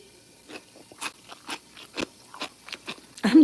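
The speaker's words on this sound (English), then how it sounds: "so you can hear the munching going on." Crunchy blanched cabbage chewed close to the microphone: a series of sharp, separate crunches and bites about every half second, loud and crisp in a quiet room, with no talking.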